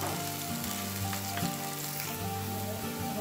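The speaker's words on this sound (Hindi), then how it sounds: "तो इसको हल्का सा ऐसे हिलाते जाएंगे, जब थोड़ा सा प्याज डार्क ब्राउन कलर का हो जाएगा" Chopped onion sizzling steadily in hot oil in a pan while being stirred for suji upma, a dense continuous frying crackle with a few soft scrape accents, close and alone.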